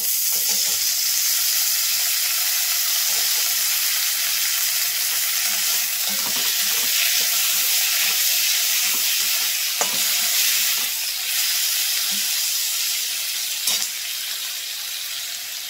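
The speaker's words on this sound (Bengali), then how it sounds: "দেখুন পেঁয়াজ ভাজা হচ্ছে, আমি কটা আলু দিয়ে দিচ্ছি।" Onions and potato pieces sizzle in a hot pan, a continuous close hiss broken by clicking and scraping as a spatula turns them, with a few sharper knocks against the pan.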